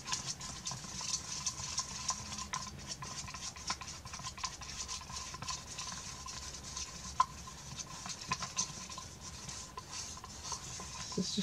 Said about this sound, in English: I'm going to take this and mix the paint with the Mod Podge